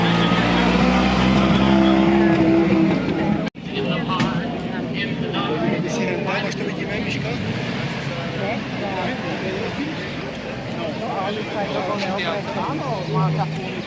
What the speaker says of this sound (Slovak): Tu nám štartuje modrý Porsche